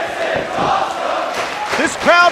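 A wrestling crowd at a Chris Hero and Claudio Castagnoli tag match roars steadily in a loud arena, with a commentator's voice talking over the cheering throughout.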